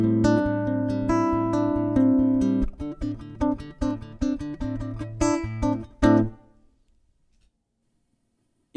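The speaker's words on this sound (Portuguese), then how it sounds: "Então esse aqui é o som do violão." A Rick Turner Renaissance nylon-string guitar played through a pedalboard with no impulse response, plucking a sequence of bright notes and chords that ring out and then fade to silence.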